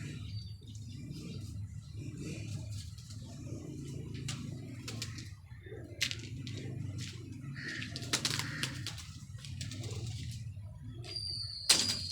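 A female Salari pigeon is released outdoors, its wings flapping in brief bursts against steady low background rumble and scattered bird sounds, with a sharper flutter near the end.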